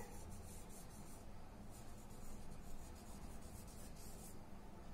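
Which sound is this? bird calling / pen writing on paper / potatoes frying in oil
pen writing on paper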